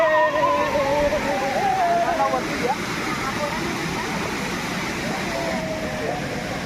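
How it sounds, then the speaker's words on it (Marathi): Continuous rushing water from a waterfall at a farm tourism site, a broad steady roar with people's voices heard over it early on. "इथं बघा धबधब्यावरती आपली धबधबा आहे"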